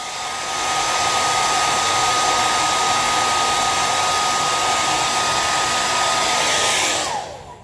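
A hair dryer blows with a steady, loud roar for several seconds, drying and straightening a damp beard, then shuts off and spins down.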